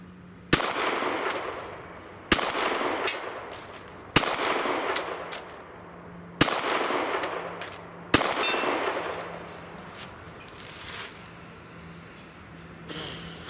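Five sharp CZ P10 C pistol shots ring out one by one at a target, each a loud crack followed by a brief echoing decay, spaced roughly two seconds apart outdoors.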